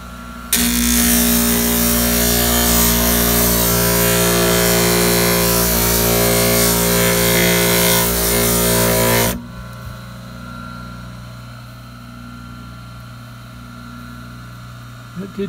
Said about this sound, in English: You think I should try to grind it more flat?